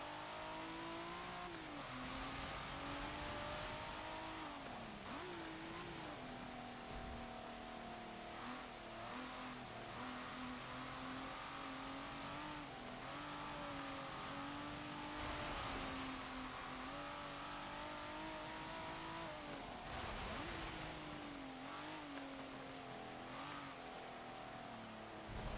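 A 2018 Kia Stinger GT engine in Forza Motorsport 7, a continuous loud drone that climbs and dips in pitch through gear changes and corners over a lap, with faint tire noise.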